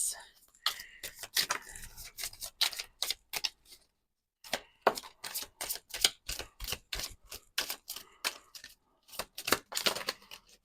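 Oracle cards are shuffled in rapid flicking bursts, crisp papery slaps repeating with a brief pause midway, close and fairly loud.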